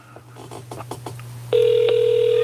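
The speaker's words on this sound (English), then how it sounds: "It's ringing." A telephone call rings out over the line: some faint tones at first, then a loud steady ringback tone starting partway through and holding to the end, with no talk.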